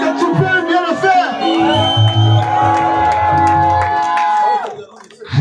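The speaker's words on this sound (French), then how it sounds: "Est-ce que tu peux pousser les cris de joie?" Guests at a church wedding blessing in Ivry let out loud, sustained ululating cries of joy over cheering and shouting, fading out abruptly near the end.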